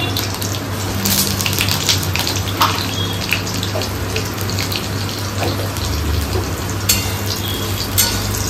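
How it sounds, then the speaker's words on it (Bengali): Potatoes frying in mustard oil tempered with nigella seeds, a loud continuous sizzle and crackle with occasional stirring scrapes in the pan, close up and without speech. "ফোড়ন দিয়ে আলু ভাজা হবে।"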